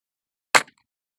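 A single sharp shot from a Weihrauch air rifle, one short crisp crack with a brief tail, alone in otherwise silent surroundings.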